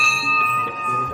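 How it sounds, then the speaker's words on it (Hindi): A metal temple bell is rung at the entrance to a Shiva shrine, with a child helping. It gives a single bright, ringing strike whose clear tones hang and slowly fade, close and fairly loud, with no talk over it. "देखो बच्चे को घंटी बजाने में मदद कर रहा है"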